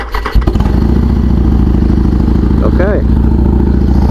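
A Harley-Davidson Sportster motorcycle engine cranks and fires up, then settles into a loud, close, steady rumbling idle with a brief rev partway through; someone speaks a word over it.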